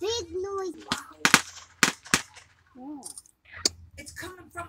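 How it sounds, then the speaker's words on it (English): Fireworks go off behind a field on the Fourth of July, a few sharp scattered pops heard between the chatter of a child and an adult. "People have fireworks over there too."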